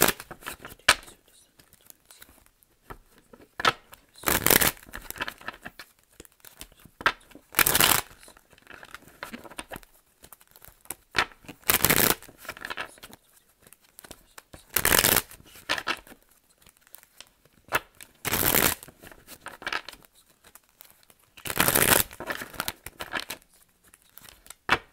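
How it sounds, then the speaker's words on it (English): A deck of tarot cards is shuffled in repeated short bursts of riffling and flapping about every three to four seconds, close and crisp, with quieter handling rustles in between. "let's go ahead and pull some more cards from this deck"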